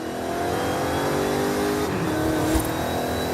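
A car engine revs in Forza Horizon 5, a steady whining drone with pitch sweeps as it shifts, a brief sharp spike near the end, and the engine sound alone throughout.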